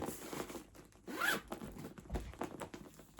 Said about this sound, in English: smooth zipper as well.